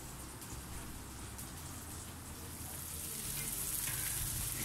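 Masala for chicken gola kabab roasting in a pan, a soft, even crackle like light rain that grows a little fuller near the end, with no speech.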